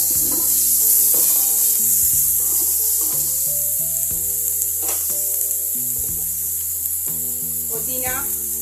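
A spoon stirs coriander powder into a sizzling curry in a pan, with scraping and a steady frying hiss throughout, close, with no talk.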